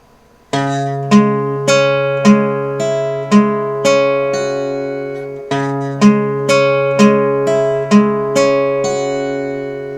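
A guitar plays the slow One Punch Man sad theme alone, single notes plucked one at a time in an even rhythm over a sustained low note, clear and close.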